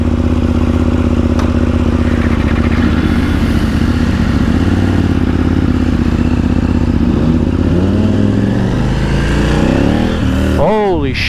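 A KTM 890 Duke R motorcycle with track pack and quickshifter rumbles steadily up close, with rising rev sweeps near the end; a person talks over the engine noise.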